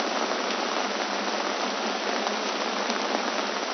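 Steady rain falls on a surface, a dense continuous hiss of drops at even loudness throughout, with no voices and no pauses.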